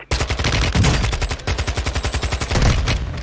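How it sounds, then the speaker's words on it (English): Loud, sustained automatic gunfire in the video game Warzone 2, rapid evenly spaced bursts of shots running almost continuously with brief breaks, close and dominant with no voices over it. "someone shooting from behind"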